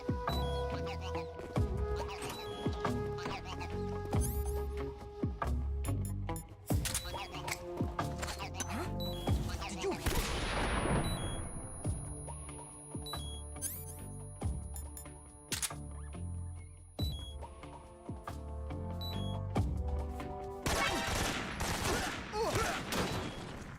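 Bursts of gunfire in Metal Gear Solid 3 as collectible targets are shot, loud sharp reports in several clusters spread across the stretch, with a voice talking at times between shots.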